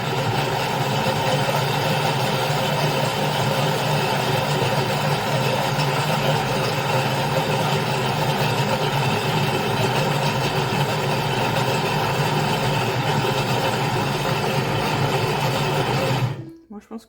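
A food processor runs steadily at speed 6, churning a fig and goat cheese dough for honey-topped appetizer bites; the motor whirs loud and continuous for about sixteen seconds, then cuts off abruptly.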